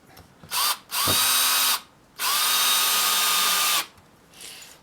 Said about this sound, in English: as you see, the screw goes in without much effort.